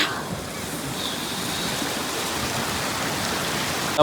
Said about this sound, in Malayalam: ഇതാ കണ്ട മോളിൽ നിന്ന് ഐസൊക്കെ ഉരുക്കി ഇതാ വെള്ളമായിട്ട് ഇങ്ങനെ താഴോട്ട് പോകുന്നുണ്ട് കേട്ടാ